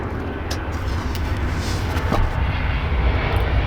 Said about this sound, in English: Oh, we got a big plane coming in, guys.